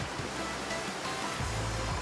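A river flows steadily nearby, a continuous faint rushing of water that is brief and free of voices.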